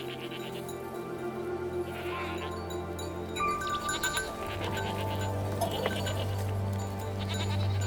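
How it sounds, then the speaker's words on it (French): Goats and sheep raised on the slopes of Mount Etna bleat repeatedly over a dense, steady outdoor background, several animals calling close by without any talk. "un certain nombre de chèvres et de moutons élevés sur les pentes du volcan"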